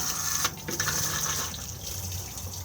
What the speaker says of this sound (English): And then we have the flush button just here.